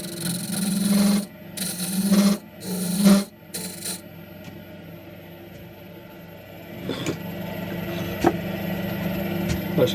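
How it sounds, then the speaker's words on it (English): A turning tool hollows out a wooden goblet on a lathe with several loud, close scraping bursts at first, then a softer, steady cutting hum with occasional light ticks. "then I'm going to start hollowing it out"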